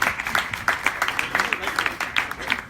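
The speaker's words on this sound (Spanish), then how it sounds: "Un aplauso a este muchacho." Scattered clapping from a lecture audience welcoming a volunteer, a loose rhythm of individual claps repeating through the whole stretch at moderate loudness.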